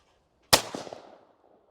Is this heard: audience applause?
no